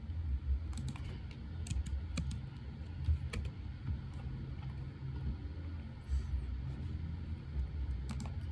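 Light typing on a computer keyboard, entering numbers into an input field, with scattered soft key clicks spread across the clip over a steady low background hum.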